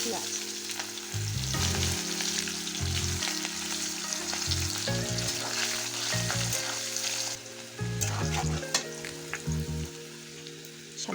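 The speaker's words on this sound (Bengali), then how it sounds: "দেখো পেঁয়াজটা ভাজা হয়ে গেছে।" Onions fry in oil with bay leaf, dried red chili, cardamom, cinnamon and cumin in a pan, a soft continuous sizzle with occasional stirring scrapes, alongside a low repeating tonal hum, quiet and without speech.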